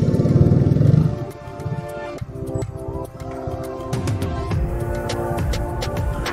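Heavy night-time traffic jam in Tomohon, Indonesia: motorcycle engines idle, rev and clatter nearby, with a loud rumble at first, then uneven clanks and renewed engine drone.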